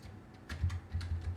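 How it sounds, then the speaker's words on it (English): Computer keyboard typing: brief bursts of clicky keystrokes, close and moderately loud, with low rumbling background hum and no talking. "I'm typing over on this side."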